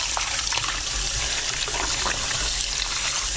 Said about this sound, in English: So that starchy water that I pour out